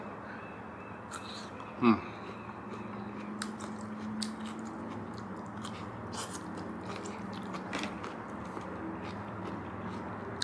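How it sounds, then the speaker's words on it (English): Crunchy lotus root from a spicy self-heating hot pot bowl is bitten once sharply, followed by soft, close chewing and faint squishy mouth sounds in a quiet room. "I love lotus root. It's really good. So crunchy."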